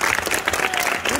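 A brief burst of audience applause at a school Lion King rehearsal in Ayamonte, steady dense clapping.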